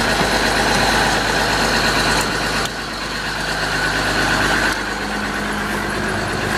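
An M1078 military truck's engine runs steadily at a loud, constant level throughout, with a brief dip in intensity partway through, on a day of about 35 degrees.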